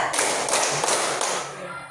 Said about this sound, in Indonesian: Tepuk 1, tepuk 2, tepuk 1, 2, tepuk 3.